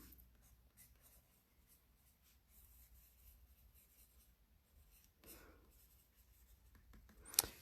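A pencil drawing Zentangle patterns on paper makes quiet, close scratching strokes in short bursts, ending in a sharper scrape.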